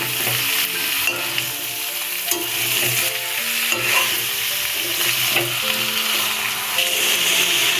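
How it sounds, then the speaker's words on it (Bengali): Soaked gobindobhog rice being stirred into fish head sizzling in a pan, a continuous close frying hiss with spatula scrapes and stirring clatter throughout. "পুরোটা একসাথে ভালো করে মিশিয়ে নিচ্ছি।"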